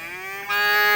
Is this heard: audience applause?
no